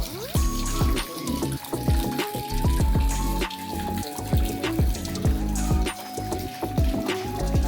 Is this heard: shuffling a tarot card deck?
no